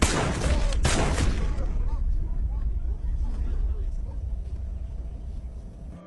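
A quick burst of several pistol shots in an Indian film cracks out at the start, followed by a fading, echoing rumble as the shooting stops.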